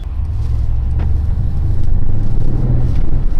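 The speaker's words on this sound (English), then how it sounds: "The sound of these exhausts is like rumbling" Catless exhaust on a BMW M3 rumbling with a deep, steady low drone, close and loud for a few seconds and growing slightly heavier toward the end, with no talk over it.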